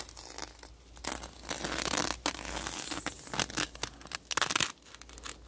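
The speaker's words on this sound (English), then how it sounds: "you're going to take a sharp object and you're going to cut the bag" A plastic bag is cut open with a sharp object, making close crinkling, rustling and tearing sounds in uneven bursts, with no talking.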